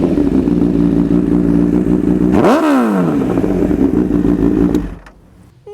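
Motorcycle engine through an aftermarket SC Project exhaust, a loud close idle burble broken by one sharp rev that rises and falls, then dropping off near the end.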